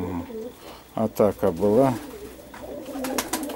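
Perm pigeons coo close by in soft, repeated rolling calls between brief bursts of nearby speech.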